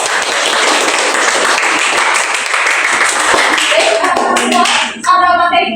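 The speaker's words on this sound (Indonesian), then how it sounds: "Tepuk tangan kita semuanya." A classroom group claps together in dense, steady applause that carries on for several seconds before thinning into scattered claps, with brief voices and movement near the end.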